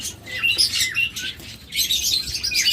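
A lutino Fischer's lovebird, split to another colour, gives a rapid series of shrill, high chirps and squawks close by, in bursts with brief pauses.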